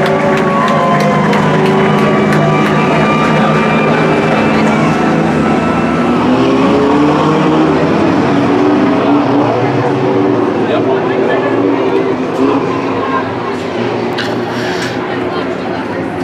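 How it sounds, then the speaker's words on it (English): Mini stock race cars rumble past on a parade lap at Petaluma Speedway, a steady loud engine drone filling the whole stretch with crowd noise and an announcer talking over it. "Here's the mini stocks on parade."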